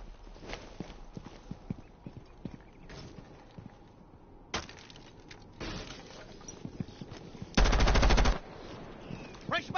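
Gunfire from the game Rainbow Six Siege cracks out in scattered single shots, then a dense loud automatic burst, amid footsteps and other game noise.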